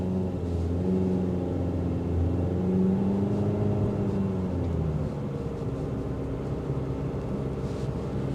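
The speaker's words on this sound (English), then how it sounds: "I just drove it like you would normally drive it." A 2023 Mitsubishi Eclipse Cross cruises on the road, heard as a steady, low engine drone with road rumble from inside the cabin, the pitch shifting gently as it drives at an everyday pace.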